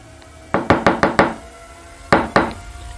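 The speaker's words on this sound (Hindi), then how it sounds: "एक दो बार मैंने दरवाजा और खटखटाया" Knocking on a house door, a quick burst of five sharp raps followed by two more after a pause, close and loud with no talking.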